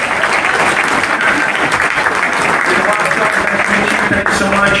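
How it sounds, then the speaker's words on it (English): Steady, dense applause from a club meeting audience welcoming its president, continuous clapping filling the room at full volume with a voice or two mixed in. "Applause would be good."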